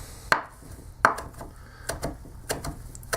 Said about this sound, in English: I'm just going to chop some of it up